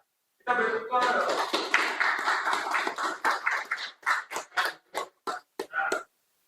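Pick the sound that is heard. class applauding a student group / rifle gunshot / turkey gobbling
class applauding a student group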